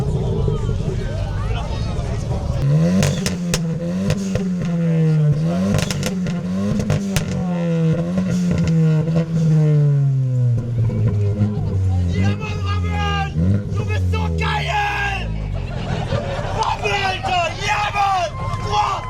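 A VW Polo GTI's engine revs up and falls repeatedly at an outdoor tuning event in Germany, rising and dropping in pitch, with crowd chatter and clatter around it.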